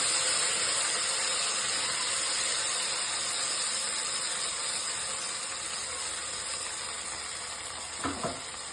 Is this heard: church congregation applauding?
no